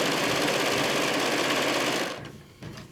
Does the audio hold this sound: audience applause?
no